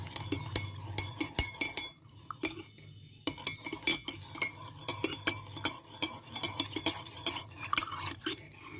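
A metal spoon stirs honey into a hot homemade cold remedy drink, clinking steadily against the cup in quick rhythmic taps with brief pauses, close and clear with no talking.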